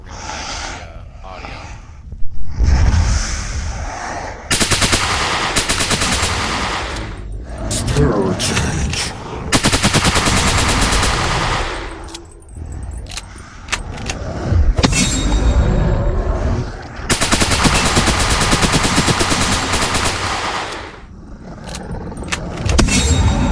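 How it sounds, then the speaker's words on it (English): SMG fire from the starting decked SMG in the game Rogue Planet 2, heard as loud bursts of rapid automatic shots broken by short pauses, with a few quieter clicks and effects in the gaps. "This is the decked SMG. That's what you start out with."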